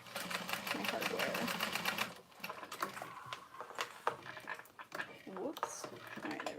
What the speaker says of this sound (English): And then just sew across, keeping that leather over my hardware.